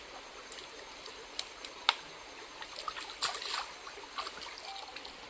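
A cold outdoor stream trickles and dribbles softly, with faint, scattered splashes and gurgles rising briefly above a quiet, steady background.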